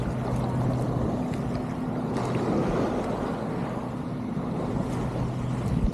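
A boat motors across open water, its engine a steady low hum under constant wind and splashing water noise, with no talk.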